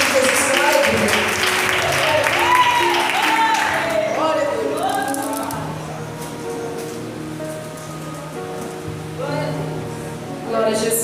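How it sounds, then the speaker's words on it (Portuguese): A church congregation claps in worship with a busy wash of hand claps under a speaking voice, loud at first and then thinning into quieter, scattered clapping as the talk continues over it. "E as palmas você adora o Senhor"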